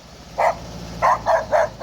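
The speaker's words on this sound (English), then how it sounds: "There we have a dog." A dog in the village of Petite Savanne barks four times at moderate distance: one short bark, a pause, then three quick barks in a row.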